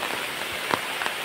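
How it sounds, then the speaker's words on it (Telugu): A torrential downpour over cotton farmland, heard from beside a small tree, a continuous rushing hiss with a few sharper drop splats standing out, no speech. "ఈ వర్షం అయితే మామూలుగా పడట్లేదండి, కుండపోత అంటారు కదా, అంత పడుతుంది."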